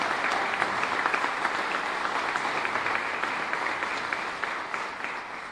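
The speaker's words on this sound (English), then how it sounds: "please once again join me in giving a big applause for Stephen" Sustained applause from a large audience honoring Stephen at a Providence event about converting the Superman building to apartments, steady dense clapping filling the room at an even level without pause.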